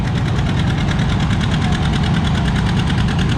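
A John Deere R tractor labours loudly and close during a tractor pull on a slippery sponge track, its engine knocking in a fast, steady, pulsing rhythm throughout.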